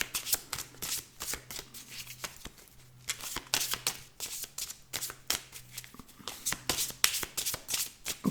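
Tarot cards being shuffled by hand, a close and steady run of crisp riffling flutters in repeated bursts with short pauses, no voices.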